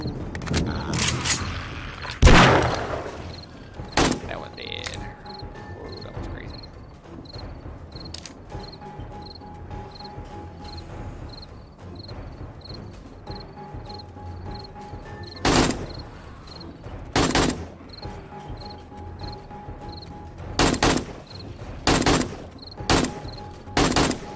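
Gunfire during a seventh-day zombie horde attack in the video game 7 Days to Die: loud, sharp shots ring out singly and in short bursts at irregular intervals over a steady chirping insect-like background.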